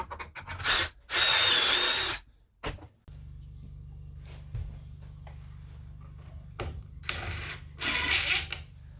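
Power drill boring pocket holes in wood framing inside a school bus conversion, two loud close bursts of whirring drill with a pause between, plus a low steady hum and small knocks.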